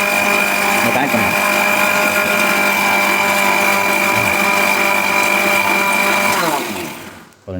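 Mixer grinder blending a green chicken masala paste, a loud steady high-pitched whir running for several seconds before winding down and stopping.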